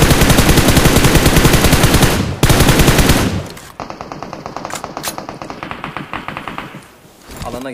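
Rapid automatic gunfire in PUBG Mobile, loud continuous bursts of close shots, a brief pause, then a fainter sustained rattle of fire with sharp individual cracks.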